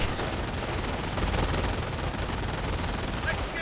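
An MG machine gun keeps up continuous rattling fire in Company of Heroes, dense and loud throughout, mixed with other battle noise and scattered gunshots.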